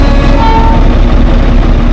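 Darjeeling toy train on the Darjeeling–Ghum joy ride pulling into the station, a steady, loud, close rumble with a faint tonal hum running throughout.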